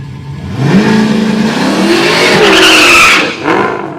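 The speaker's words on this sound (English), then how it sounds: "Beautiful blue Hellcat in the right lane. We got a drag race marching to the top end." Drag racing cars, including a Dodge Hellcat, at a dragway: a loud engine revs and rises in pitch as it accelerates, with tire squeal mixed in, then fades briefly before another surge.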